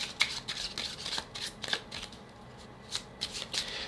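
A deck of playing cards is shuffled by hand for a card reading, giving quick repeated riffles and soft flutters in short bursts with brief pauses between them, close and fairly quiet.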